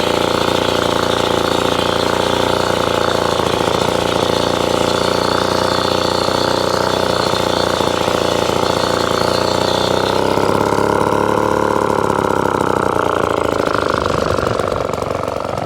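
An Atco Midget lawnmower with a Villiers engine runs steadily while cutting grass, a loud, continuous close-up putter with a rough, shaky drone whose pitch dips and shifts slightly toward the end.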